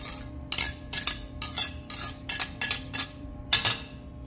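A utensil stirring a pickling mix of vinegar, ginger, garlic, salt, whole peppercorns and sugar in a pot, giving about eight rhythmic metallic scrapes and clinks close up, each sharp and evenly spaced, with no speech.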